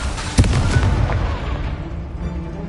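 A spell-casting duel in a wizarding video game, with a sharp blast-like crack near the start followed by a rumbling, fiery burst that fades out over a couple of seconds, loud and close.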